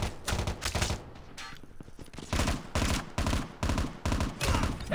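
Bursts of M16 rifle fire in Call of Duty Mobile, several loud, evenly spaced volleys with a brief lull before a steady run of repeated bursts.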